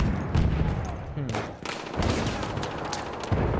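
Gunfire rattles in the Battlefield 1 video game as repeated sharp shots and bursts over a dense battle din, with a brief murmur from a player.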